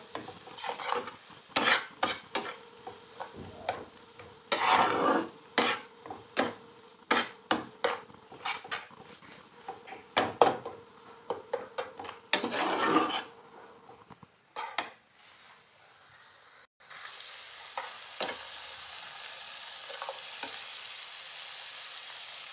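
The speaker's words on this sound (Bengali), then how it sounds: "ভালো করে মশলাগুলো কষিয়ে নেব" Spices are sautéed with salt in a pan, giving a close, loud sizzle broken by a busy run of spatula scrapes and clatters, then a quieter, softer frying hiss near the end.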